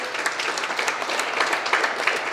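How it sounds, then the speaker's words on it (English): An audience at a Muslim Day at the Capitol press conference in Tallahassee applauds the organizers and facilitators, a brief, even round of many hands clapping at moderate volume with no voice over it. "can we give a round of applause to all the organizers and facilitators"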